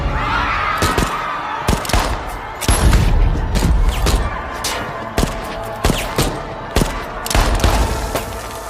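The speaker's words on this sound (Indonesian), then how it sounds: "memicu aksi baku tembak" Gunfire shootout in a film, with bursts of loud shots and booming impacts cracking out in an irregular series over a dense action mix.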